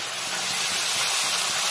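Hot water poured into frying jackfruit curry sets off a loud, continuous hiss of steam and sizzling, steady and close throughout.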